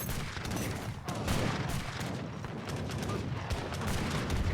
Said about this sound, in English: Gatling guns, 3 of them, versus Guard Janissaries. Boom, boom, boom, boom.